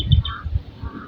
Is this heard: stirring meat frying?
no